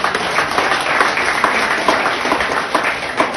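A crowd claps and applauds steadily for a few seconds, a dense patter of many hands without a break.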